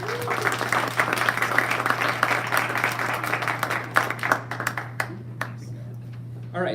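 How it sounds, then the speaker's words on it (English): Audience applause greets guests at an internship-to-hire partner session, a sustained patter of hands with scattered louder claps that thins out toward the end, with a steady low hum beneath. "let's give our guest a round of applause for being here"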